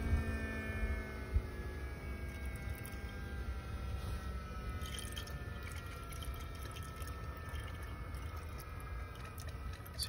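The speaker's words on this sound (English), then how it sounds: "after that you can hear electric pump" An electric coolant pump runs steadily on a BMW X5 during coolant bleeding, a faint continuous hum with gurgling fluid movement and a steady whine underneath.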